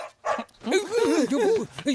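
A person imitates a dog barking, voicing a quick run of yelping bow-wow sounds, close and loud, with a short spoken bit at the start.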